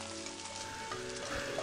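Gyoza frying in a pan as a visual novel sound effect: a steady, close crackling sizzle that runs unbroken for the whole moment, with faint sustained tones underneath.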